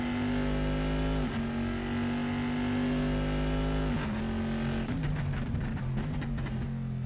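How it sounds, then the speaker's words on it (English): A V8 race engine in Assetto Corsa, a GT2 America car at Laguna Seca, holds a loud steady drone, drops pitch with shifts, then growls and crackles on deceleration; no talking. "It's so nice to hear that V8 again."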